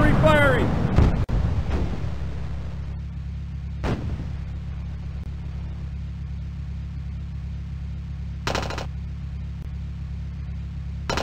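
Artillery firing in the Across the Rhine war game: a loud close boom at the start with rumbling decay, a couple of further sharp reports, then a steady low engine drone throughout.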